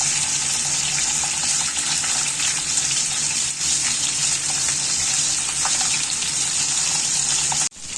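Pieces of katla fish frying in well-heated oil in a pan, a loud continuous sizzle with crackling pops, cut off abruptly just before the end.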